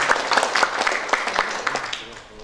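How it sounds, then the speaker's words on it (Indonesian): Audience applause at a Batam maritime industry community event, a steady wash of many hands clapping that fills the clip and fades slightly toward the end, with some voices mixed in. "Boleh tepuk tangan untuk acara kita kali ini."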